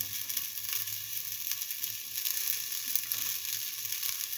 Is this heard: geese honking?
no